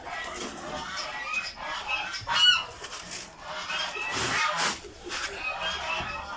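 Domestic geese honk in loud, nasal bursts, a few calls overlapping close by, with brief pauses between them.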